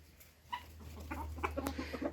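A few hens and a Fayoumi rooster cluck in soft, scattered bursts close by, over a low steady hum.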